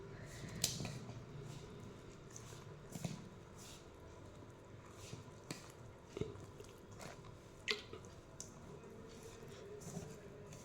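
Rice flour dough for akki rotti is mixed by hand with a little water, giving quiet, close, irregular squelches and soft slaps scattered across the moment.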